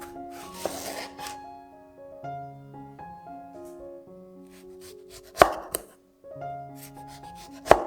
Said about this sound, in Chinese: 首先将番茄切片放到碗里备用。